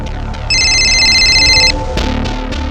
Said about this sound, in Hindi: अभी नदीम का फोन है सर